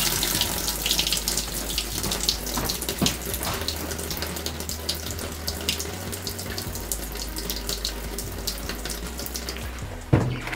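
A tap runs steadily into a sink to soak a pair of jeans before bleaching, a close, continuous splashing rush with no talk.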